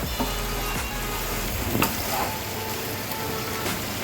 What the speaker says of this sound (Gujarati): હવે આપણે એને એકવાર મિક્સ કરી લઈશું.